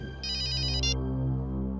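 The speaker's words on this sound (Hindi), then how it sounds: "साळुंखे का फोन?" A short electronic phone ringtone trills in quick repeated pulses, then stops over a low steady background hum.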